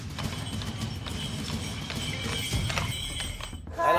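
A horse arriving among a crowd, its hooves clip-clopping in a steady rhythm at moderate distance beneath continuous background chatter and bustle, with a brief neigh-like cry near the end.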